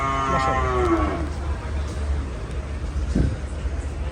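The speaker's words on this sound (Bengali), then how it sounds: "তো এগুলো হইতেছে কোরবানির গরু, 17 তারিখে রাত্র গাবতলীতে।" A sacrificial cow at the Gabtoli cattle market in Dhaka gives one loud, near moo at the start, followed by a busy outdoor hum with faint traffic in the background.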